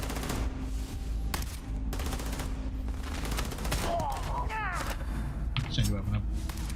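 Sustained weapon fire in Starfield, heavy with recoil, pounds away in fast repeated bursts, then gives way to whooshing and sweeping effects while a voice talks over the action.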